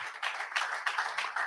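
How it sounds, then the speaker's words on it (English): A conference audience at a digital skills festival on Africa and the fourth industrial revolution claps together. The applause is steady and moderately loud, with no voices over it. "can we give a round of applause to you?"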